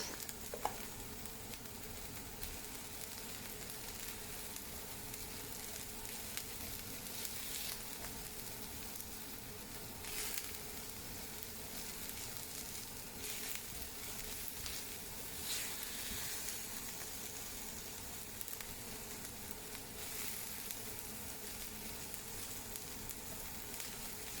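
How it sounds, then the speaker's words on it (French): Paella ingredients with saffron threads stirred in a hot pan, giving a steady close sizzle and hiss with light scraping stirs throughout and no talk. "Et on vient mélanger le tout."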